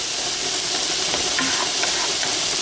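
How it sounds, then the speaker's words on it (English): Chopped vegetables sweat and sizzle steadily in a hot pan for lasagna filling, a constant close hiss with occasional faint stirring taps, no talking. "So we have the veggies cooking and sweating."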